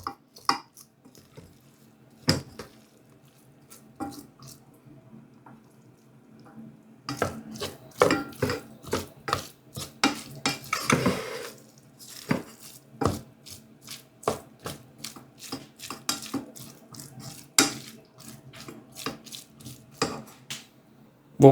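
Sushi rice mixed with seasoning using cutting strokes in a bowl, producing irregular soft taps, scrapes and clicks that come in quick clusters with short pauses between.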